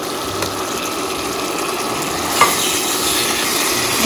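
Fried potatoes are tossed into a bubbling, oily masala with a loud, continuous sizzle and hiss, punctuated by one sharper scrape of the spoon partway through.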